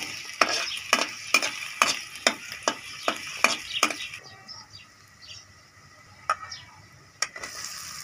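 Crushed ginger and garlic fry in a little ghee while a utensil stirs them with a quick run of sharp scraping strokes, then the sizzle settles to a softer hiss with a couple of isolated clinks.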